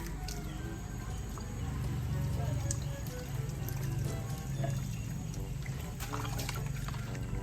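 Water pours and trickles at a hand pump well in a rural province, a steady close splashing stream with soft voices in the background.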